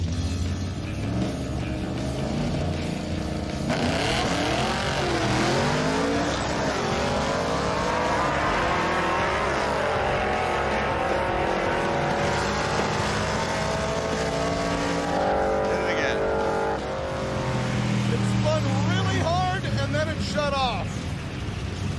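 Roadkill drag race car revs hard and launches, its engine roaring loudly and continuously with rising and falling pitch as it accelerates, with voices talking over it.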